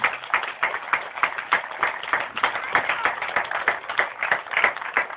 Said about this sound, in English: A big round of applause for all of our veterans.